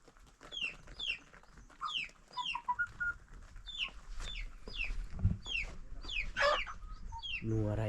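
Farmyard chickens at a village coop in Kharka cluck repeatedly in short, irregular bursts, with a group of chicks among the flock and a louder squawk near the end.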